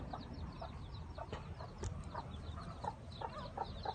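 Chickens cluck steadily at a distance over a noisy outdoor background near a sugarcane field, with several short calls scattered throughout and no talking.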